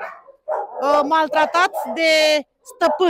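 A puppy gives a run of high, whimpering yips and barks close by. A person talks alongside it.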